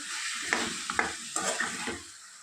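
Chicken fries on a high flame in a seasoned tempering, giving a steady, close sizzle broken by several sharp scraping stirs of the spatula, with no voices.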